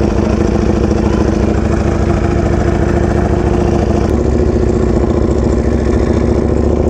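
A Ducati Panigale V4R motorcycle engine idles at a bike event, a loud, steady, close rumble with an even throb and no change in pace throughout.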